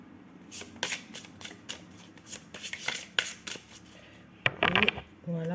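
A deck of playing cards being shuffled: a rapid run of crisp riffling flutters and slaps, fairly close, with a brief louder burst near the end and a short voice sound at the very close.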